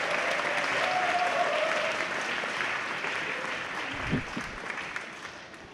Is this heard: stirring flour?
no